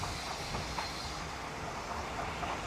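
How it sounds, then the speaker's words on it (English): A single Japanese freight train passing through a residential area, a loud continuous rumbling roar of wagons rolling by up close with faint rhythmic clatter, steady for the whole stretch. "It was a single lonely freight train."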